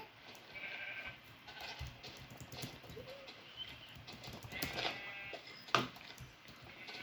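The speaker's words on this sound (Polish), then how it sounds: "Dużo jest tu owiec." Sheep in the Minecraft video game bleat faintly a few times over quiet background game noise, with one brief sharper click near the end.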